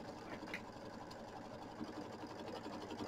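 A sewing machine runs steadily for about three seconds, stitching the tack-down line through quilt batting on a small gnome quilting block, with a continuous mid-pitched motor whir and no talking.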